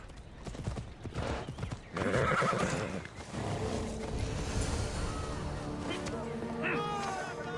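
A horse neighs and hooves clip-clop in Assassin's Creed Odyssey, with a short loud whinny partway through, then steady game ambience and a low background hum.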